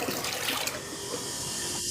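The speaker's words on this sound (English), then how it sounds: "Add water according to the manufacturer's guidance ratio." Water runs steadily into a bucket holding floor sealer hardener curing agent, a continuous close rushing pour with no talk.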